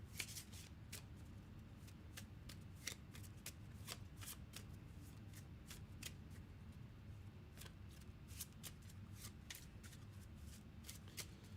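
Playing cards shuffle continuously for several seconds during a solo board game session, with crisp riffling snaps at an even rhythm, close and fairly quiet, with no talking.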